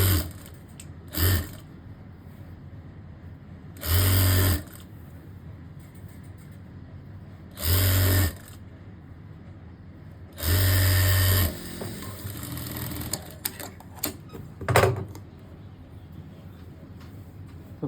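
A sewing machine stitches lace onto the sleeve of a simple suit, running in four short loud bursts of steady mechanical whirring separated by pauses, with some light handling noise and quieter clicks near the end.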